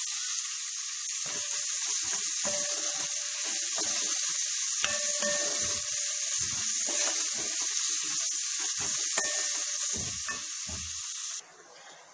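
Salted onions sauté in a pan until golden brown for Kerala-style chole bhature, giving a steady, close sizzle with occasional scraping stirs, running continuously before cutting off abruptly near the end.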